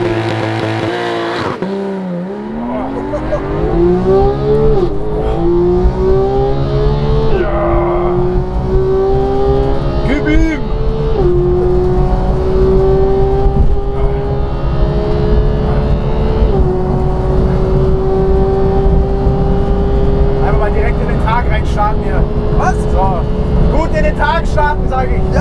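Porsche GT3 launch control start: the engine is held at very high revs, then the pitch drops and climbs again through loud, close gear pulls, with people talking over the engine inside the car.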